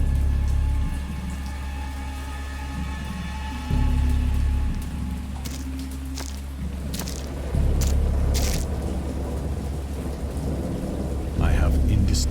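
A heavy thunderstorm booms with repeated deep rumbles of thunder over steady rain pattering on surfaces, loud and immersive, with sharper cracks and drips scattered through the downpour.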